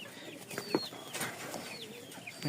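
Pigeons coo faintly in a pen, soft low burbles mixed with scattered chirps and clucks from other birds, distant and quiet with no talking over them.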